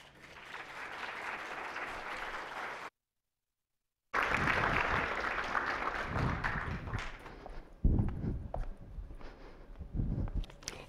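An audience applauds to welcome a lecturer at a museum talk, with steady, full-room clapping that breaks off briefly, then resumes and thins into scattered claps near the end.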